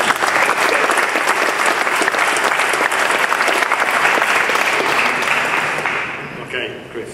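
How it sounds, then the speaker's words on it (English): Audience at a transport talk breaks into dense, loud applause after a speaker, sustained for several seconds before tapering off near the end. "Round of applause, please."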